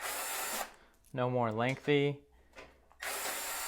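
A power drill whirs in a loud burst, stops while a person briefly speaks, then whines up again.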